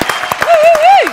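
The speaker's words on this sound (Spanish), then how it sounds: "Fuerte aplauso para el queridísimo Mauro Callaza, señores." Studio audience applauding guest Mauro Caiazza on a Spanish-language TV show, with sparse, scattered claps and a gliding whistle-like tone running through the middle.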